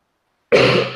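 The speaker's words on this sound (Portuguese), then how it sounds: "desculpa a tosse aqui" A single abrupt, loud cough or throat clearing bursts out up close after a moment of silence, one short harsh rasp.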